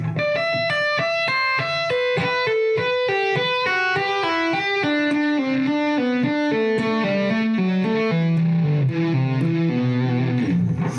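A fast two-hand tapping lick on electric guitar, rapid tapped notes cascading steadily downward in a repeating pattern, clean and continuous, with no voices.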